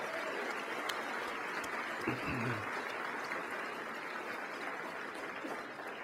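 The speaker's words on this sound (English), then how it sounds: "Let's give another round of applause for each of the honorees tonight." Steady applause from a gala audience honoring award recipients fills the whole stretch, dense and even, with a brief low voice-like murmur partway through.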